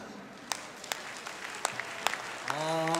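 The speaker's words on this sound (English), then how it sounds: "Can you clap your hands?" Scattered hand claps from an audience at a tribute concert: a handful of sharp, separate claps over a low room murmur, followed near the end by a sustained musical tone.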